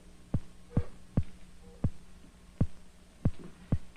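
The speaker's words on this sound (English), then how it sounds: "if we put an electrode at each end of the tank, we can hear the electrical discharge on a loudspeaker" Electric eel discharges in a tank, picked up by electrodes at each end and played through a loudspeaker: about nine gentle, evenly spaced low thumping pulses, each a short sharp click-thump over a steady background hum, with no talk.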